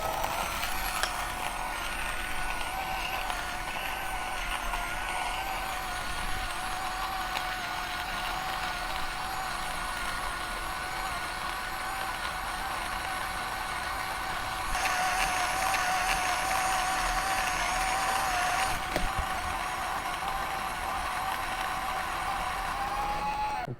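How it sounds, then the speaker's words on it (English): Millab E01 or Femobook A5 battery espresso grinder slowly grinding coffee beans, a faint steady high-pitched whine that continues unbroken, rising slightly near the end. "grinder is very slow when it comes to espresso grinding"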